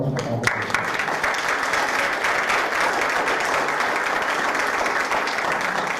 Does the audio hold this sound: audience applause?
yes